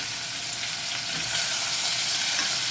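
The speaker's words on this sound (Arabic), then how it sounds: "لازم تاخد تشويحه اهو" Meat with garlic and onion sautéing in a hot pan gives a loud, dense, continuous sizzle and frying hiss, close up, steady throughout and slightly stronger in the second half, with no talking.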